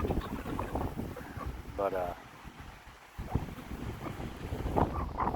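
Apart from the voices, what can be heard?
strong wind blowing outdoors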